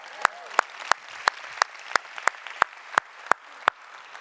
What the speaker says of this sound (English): Can we clap for that?